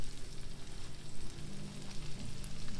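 Onions sizzle and fry steadily in a hot pan, with soft scraping of tongs as they are stirred; a continuous close crackle with no talking.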